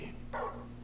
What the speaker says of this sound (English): Growly. Doesn't sound like he wants it off.